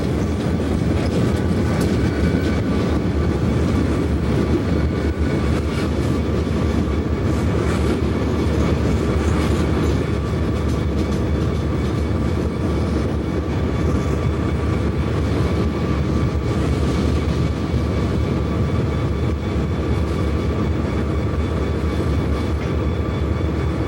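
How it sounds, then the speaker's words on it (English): A Monongahela Railway coal train, headed by locomotive 6378, rolls steadily past a second coal train in 1990. The engine rumbles loud and close and the wheels clatter continuously, with no one talking. "Headed by 6378, the second train heads past the WEPX train."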